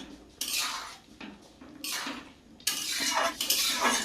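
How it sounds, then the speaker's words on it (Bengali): Prawns being stirred in a pan while cooking with pui shak greens: close, uneven bursts of scraping and clattering with quiet gaps between, and no talking. "দেখো চিংড়ি মাছটা দিয়ে দিলাম, আমি এখন এটাকে নেড়ে চেড়ে দেবো।"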